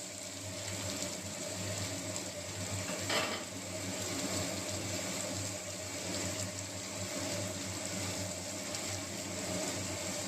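Bombay duck fish fries with onion in a hot pan, giving a steady close hiss and sizzle throughout with one brief clatter of a utensil partway through, and no voices.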